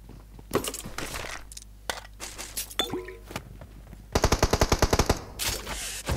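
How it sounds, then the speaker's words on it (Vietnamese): Video game gunfire crackles in scattered shots, then a rapid burst of about a dozen evenly spaced automatic rounds, followed by more shots nearby. "Hình như nó vừa bắn người."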